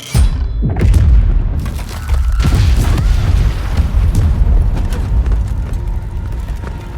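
Dynamite explodes in a scene from the animated series Arcane, a heavy boom followed by a long rumbling roar that stays loud and dense for several seconds, with no talk over it.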